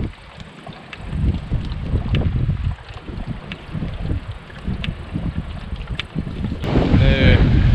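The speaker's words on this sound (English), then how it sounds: "It's really windy" Strong wind buffets the microphone outdoors near river rapids in Woodland Caribou Provincial Park, in continuous gusts, a loud low rumble that swells and roars steadily throughout, with no voices.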